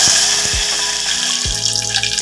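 Curry leaves crackling in hot oil with mustard seeds, fenugreek and cumin while tempering for a Tamil dish, a steady loud sizzle with a few sharp pops and spits over the hiss, no talking.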